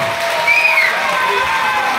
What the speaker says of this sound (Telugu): అందరూ కూడా చప్పట్లతో ఆహ్వానించవలసిందిగా కోరుతున్నాం